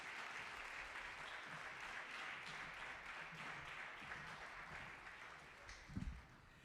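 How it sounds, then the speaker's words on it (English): An audience at a commemorative event clapping, a faint, steady wash of many hands heard from a distance, with a few louder close claps near the end. "Clap it up, clap it up, clap it up."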